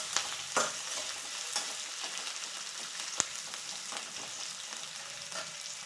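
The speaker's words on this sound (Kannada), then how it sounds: "ಗರಿಯಾಗಿ ಉಳ್ಳಾಗಡ್ಡಿ ಹಚ್ಚಿಟ್ಕೊಂಡೀನಿ, ಅದನ್ನು ಇವಾಗ ಹಾಕಿದ್ವಿ." Chopped onions fry in a pan, giving a steady close sizzle with occasional stirring scrapes and a sharp tap now and then.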